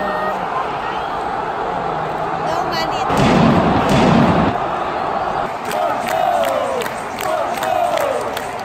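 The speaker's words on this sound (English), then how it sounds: "Right now you can hear the Benfica fans louder than the actual Porto stadium." Benfica supporters roaring and chanting in Porto's stadium during a Porto vs Benfica football match, a dense, continuous crowd noise that swells loudly for about a second in the middle, with a voice speaking over it.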